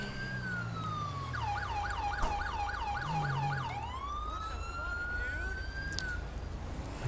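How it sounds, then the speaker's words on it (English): Wailing police car siren from the video game GTA 5, sweeping up and down in a fast yelp before settling into a long slow wail, loud and close over steady traffic rumble. "I kinda cut off my siren just for a second."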